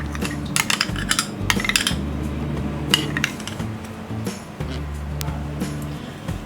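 A spoon scrapes and clinks against a bowl while stirring veg mayo sandwich stuffing of chopped vegetables, mayonnaise, salt and black pepper, irregular close metallic taps over a low background hum.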